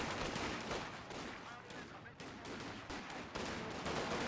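Squads trade rapid gunfire in the World War II strategy game Company of Heroes 2, dense overlapping rifle and machine-gun bursts crackling continuously at moderate distance under a faint voice.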